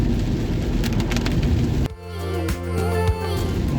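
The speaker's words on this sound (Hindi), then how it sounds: "और तेज़ बारिश चल ही रही है" Heavy rain beats steadily on a car on an expressway in India, a dense close roar throughout, turning briefly muffled and rumbling partway through as the car keeps driving.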